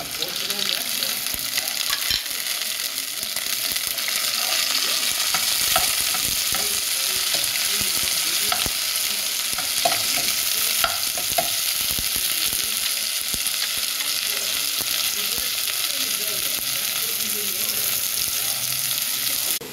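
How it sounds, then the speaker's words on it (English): Garlic and tomato fry with pork spare ribs in a pan, giving a steady close sizzle with occasional stirring scrapes throughout. "And then I add this garlic and this tomato."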